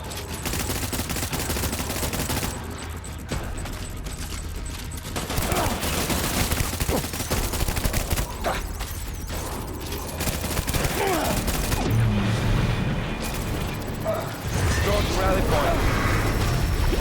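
Rapid gunfire bursts from the video game Death Stranding, crackling in dense volleys with explosive thuds among them, loud and continuous across the clip under a busy game soundtrack.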